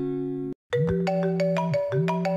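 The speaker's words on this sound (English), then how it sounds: "That's still my ringtone." A melodic phone ringtone from the indie game Penthos, a brief sustained chord, a short gap, then a bright chiming tune of repeated bell-like notes over a steady low tone, loud and close with no voices.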